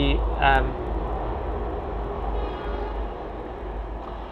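Continuous low rumble of a train rolling past near a railway station, steady and heavy throughout, with a brief higher tone near the start and a voice faintly underneath.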